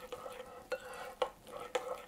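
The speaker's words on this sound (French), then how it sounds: "Et là, on va bien remuer ça." Rice flour dough for Korean garaetteok, freshly mixed with boiling water, stirred in a bowl in four sharp, evenly spaced scraping strokes, close and fairly quiet.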